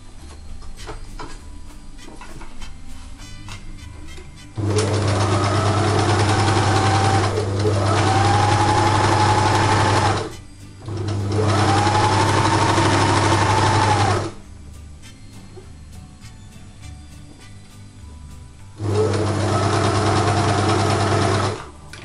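Sewing machine stitching through fabric and wadding for a Christmas boot craft project, running in three loud steady bursts of a few seconds each separated by short pauses, close up with no talking.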